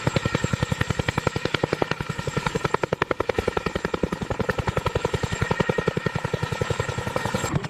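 A Chinook CH-47 twin-rotor helicopter holds a steady hover in turbulent crosswind, its blades thudding in a fast, even rhythm that stays loud and close throughout, with no voices.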